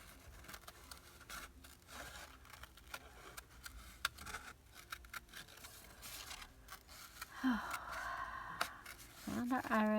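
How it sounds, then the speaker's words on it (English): Scissors snip around a paper iris cutout for a layered spring page ensemble, giving soft, close rustling cuts and paper handling noises that build louder toward the end. "cut around our iris again"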